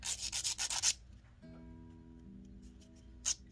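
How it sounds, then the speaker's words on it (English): An emery board files a small metal ear hook in a quick run of close, raspy scraping strokes, then a quiet pause with a faint hum and one brief final rasp. "So you can take a metal file or an emery board."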